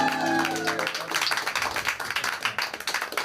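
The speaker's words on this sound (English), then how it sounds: "Give him a clap for that." Comedy-club audience at 21 Soho gives a performer a brief round of clapping, scattered close hand claps rising after a voice trails off.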